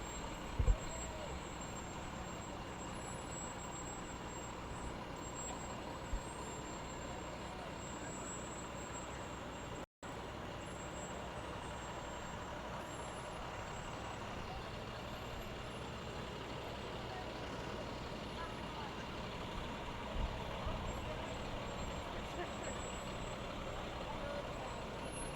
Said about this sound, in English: The Open Door School Jets with their commemorative snowplow.